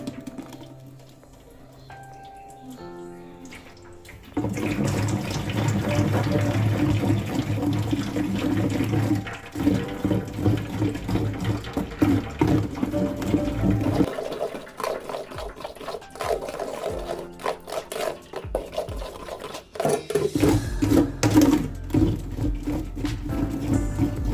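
Blended fingerroot (krachai) juice is poured and strained through cheesecloth, producing a steady, fairly loud rush and trickle of liquid that runs almost continuously after a quieter start.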